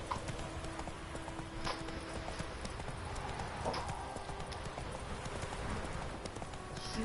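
Roach, a horse in The Witcher 3, gallops with rapid, continuous hoofbeats over a dense, noisy outdoor background, steady and fairly loud throughout.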